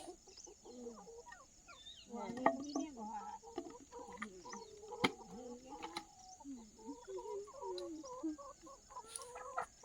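Several chickens cluck and murmur close by, with irregular bursts of clucking and a few sharp clicks, and no talking.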